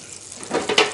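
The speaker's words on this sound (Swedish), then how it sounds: "Oj, oj, oj, vad det fräser gött i den här." Food sizzles in a hot pan during chicken curry cooking, a short hissing crackle that swells louder in the second half of a one-second burst.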